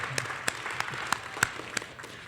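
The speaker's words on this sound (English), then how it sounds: "Let's clap for that." A small audience at a Pecha Kucha night at Muskegon Community College claps briefly, with a few scattered, fairly soft claps.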